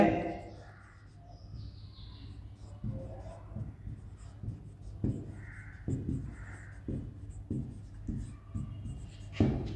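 A teacher writes fractions during a fourth-grade math lesson, chalk or marker tapping and scratching in short repeated strokes at close range, with crows cawing faintly outside and occasional speech.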